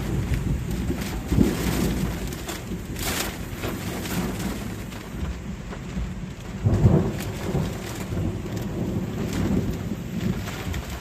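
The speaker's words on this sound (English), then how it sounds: "thunder just shook the house" Steady rain pours down during a severe thunderstorm with intense wind in Chester, Virginia, while low thunder rumbles swell under the downpour, loudest around the middle, with no voices.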